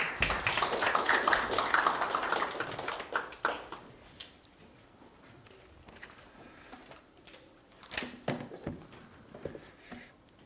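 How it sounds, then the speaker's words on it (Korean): An audience at an academic forum lecture hall claps for a speaker being introduced, a warm burst of applause that fades after a few seconds into scattered claps and faint taps. "큰 박수 부탁드리겠습니다"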